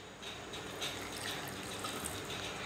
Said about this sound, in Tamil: அதில் கொஞ்சமாக தண்ணி ஊற்றிக்கோங்க.